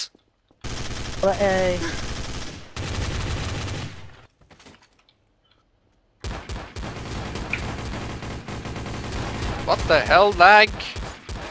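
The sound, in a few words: gunfire in a video game (TTT)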